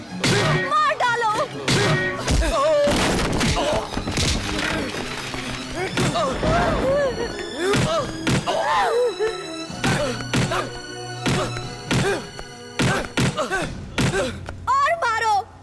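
Heavy punches and thuds trade blows in a Hindi-dubbed Telugu action film fight, loud and dense throughout, mixed with shouting voices and dramatic music.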